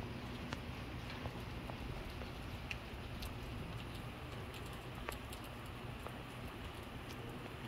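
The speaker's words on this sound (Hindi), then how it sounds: "बारिश की बहुत ही खूबसूरत आवाज़ आ रही है।" Rain falling in Gilgit Baltistan, Pakistan, a faint continuous patter of drops on surfaces with scattered sharper ticks, steady and soft throughout.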